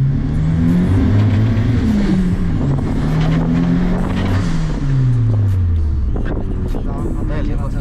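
A square-body VW Santana with a carbureted turbo engine revs hard nearby, loud and continuous, with engine pitch sweeping up and down through several throttle blips.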